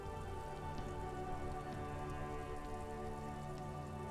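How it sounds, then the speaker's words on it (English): Rain in the Disco Elysium video game falls steadily, a dense even patter of drops that holds at one level throughout, layered over a low ambient hum, with no voices. "Stuck in the rain in a traffic jam, man"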